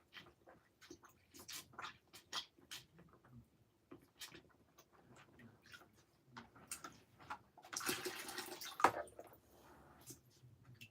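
An aquarium filter cartridge sponge rinsed under water: soft splashing and dripping with scattered taps, rising to a louder gush of running water near the end, fairly close and quiet.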